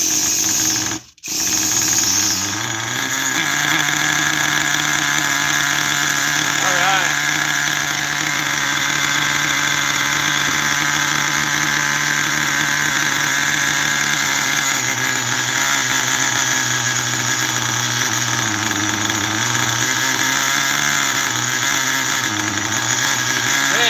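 A factory engine running very rich idles loudly during break-in, a steady droning rumble with slight wavering in pitch, close and alone for the whole stretch after a brief cut at the start.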